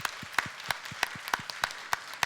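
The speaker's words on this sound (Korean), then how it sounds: "우리 수고할 박수 한번 보내겠습니다." A small church congregation at a Sunday worship service claps in thanks, heard as sparse, separate, fairly faint hand claps in a loose irregular rhythm rather than a full ovation.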